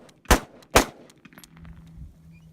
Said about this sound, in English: Pull it all the way back and let it go.